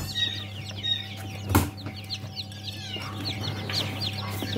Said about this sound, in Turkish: bunlar da bugün çıkan civcivlerimiz